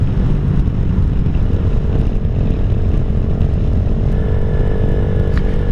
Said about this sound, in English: the muffler on this bike is just loud enough where you can hear a good little rumble when you're riding